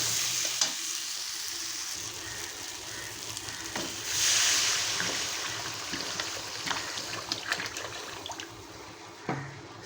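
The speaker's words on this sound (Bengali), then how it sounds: "আর এখন দিয়ে দেবো আমি জল" Water poured into sizzling, well-fried masala in a pan for a dhai fish curry, a soft hiss that swells around the middle and then eases, with scraping stirs and light clinks throughout.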